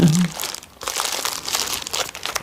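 Continuous crinkling and crackling of plastic bubble wrap being crumpled, close and fairly loud, with a brief pause midway.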